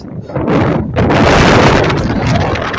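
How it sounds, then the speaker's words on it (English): Loud, rumbling wind buffets the microphone almost continuously, with heavy low-end gusts that swell after a brief lull near the start. "It's windy."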